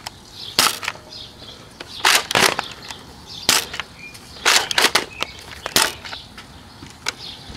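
A Nerf Recon blaster fires old streamline darts, about a dozen sharp cracking shots in uneven quick bursts, close and loud over a quiet background.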